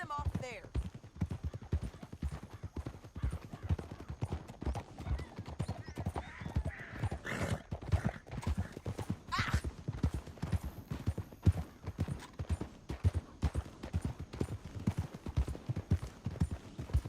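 Horses gallop in Red Dead Redemption 2, a steady rapid clip-clop of hooves running throughout with a brief whinny, under game music and a voice talking.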